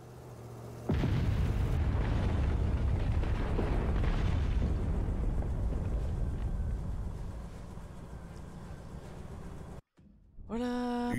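A huge building explosion in the video game Beholder bursts in loudly and rolls into a long, dense roar of rumble and debris that slowly fades before a brief silence.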